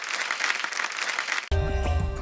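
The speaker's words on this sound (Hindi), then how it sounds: "एक बार जोरदार तालियां हमारे मेहमानों के लिए" A studio audience on a comedy talk show gives a burst of applause for the guests, a dense, bright wash of clapping. After about a second and a half it cuts abruptly to loud music with a deep bass beat.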